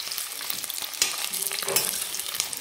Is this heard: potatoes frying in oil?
yes